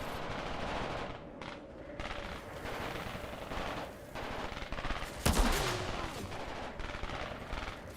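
Sustained automatic gunfire rattles through a shooter video game, with dense bursts of shots, a louder blast near the middle and continuous battle noise throughout, fairly distant and moderate in level.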